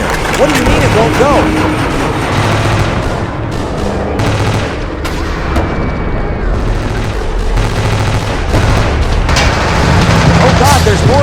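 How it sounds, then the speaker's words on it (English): Tank gunfire and shell explosions in a dramatized emergency-broadcast scenario, heavy booms and blasts recurring throughout over a dense rumbling background, with voices speaking amid the noise. "They're firing. The tanks are firing. The shell hit it."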